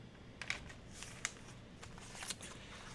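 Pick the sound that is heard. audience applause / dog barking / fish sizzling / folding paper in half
folding paper in half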